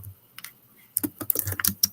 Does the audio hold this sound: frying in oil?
no